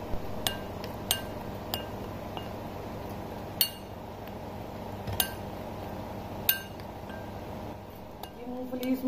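Spoon clinking in a bowl while garam masala, chaat masala and hing are mixed for seasoning peanuts: sharp, sparse metallic taps at irregular intervals over a low steady background hum, with speech.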